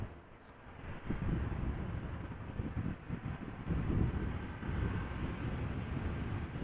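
Airliners arriving at Amsterdam Schiphol, including Boeing 737-800s and a Turkish Airbus A330, a distant low rumble of jet engines under heavy wind buffeting on the microphone, steady and fairly faint.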